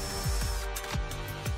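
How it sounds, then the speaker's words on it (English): A power drill fitted with a specialist bit bores a hole through a mirror, a continuous harsh grinding whine with repeated dips in pitch as it bites, close and loud. "is using a specialist drill bit and is wearing eye protection as she tries to create a neat hole in each mirror"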